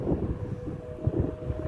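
Low, rumbling wind noise buffets the microphone on a hot, windy summer day in central Victoria, Australia, with a faint steady hum running through part of it.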